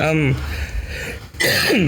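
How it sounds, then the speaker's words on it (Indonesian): A single throat clearing and a short cough, close up, between stretches of speech. "sorry ini agak batuk nih"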